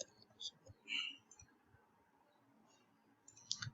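Mouse clicks from a computer mouse during a software product demo on a web form, a few short faint clicks spaced apart, with quiet room tone between them.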